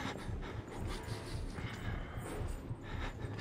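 An enemy breathing in the Outlast horror video game, faint rhythmic heavy panting in slow repeated pulses, quiet and close, with no other prominent sounds.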